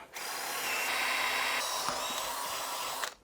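A power drill fitted with a masonry bit bores continuously for about three seconds, a loud, steady, close whine with grinding texture that stops abruptly.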